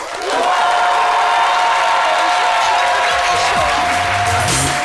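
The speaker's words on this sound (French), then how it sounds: "disons bonjour avec des applaudissements" A studio audience on a French television talk show applauds loudly and steadily for several seconds, the clapping holding at an even level with a sustained tone running underneath.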